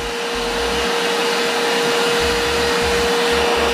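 A MULTIPRO 3-in-1 vacuum cleaner running in blower mode gives a loud, steady airy roar with a constant high whine, unbroken throughout and with no talk.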